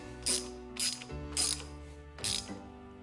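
A torque wrench ratcheting on a motorcycle, four crisp clicking ratchet strokes in steady rhythm, close up and clear with no talk.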